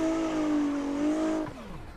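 A Link ECU race car in the video game Assetto Corsa holds a loud, steady engine tone with a strong buzzing note, then cuts off sharply as the pitch drops away near the end, with no talk.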